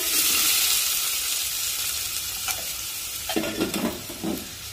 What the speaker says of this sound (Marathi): तेल हलकसं गरम झालं की त्यामध्ये एक बारीक चिरलेला कांदा टाकूया